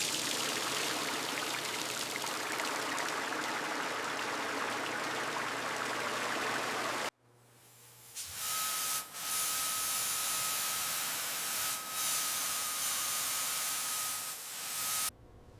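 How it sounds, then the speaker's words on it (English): A steam cleaner blasts deep-set grease off the suspension of a 1937 Cord 812 Supercharged Phaeton. A loud steady hiss runs for about seven seconds, cuts off, then returns in quieter bursts with short pauses. "that steam really gets in there, breaks it down quickly"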